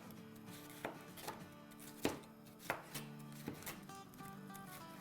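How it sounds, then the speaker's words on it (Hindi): A knife slices cauliflower florets on a cutting board, giving a series of crisp, irregular chopping thuds close up, with no talking. "तो चले अब हम इसकी भी स्लाइसेस करते हैं।"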